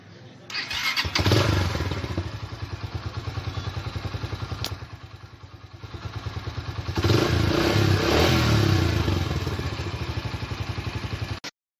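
A 2018 Yamaha YBR 125 motorcycle engine sputters to life and settles into a loud, steady idle with a throaty pulse, rising briefly with a rev before dropping back.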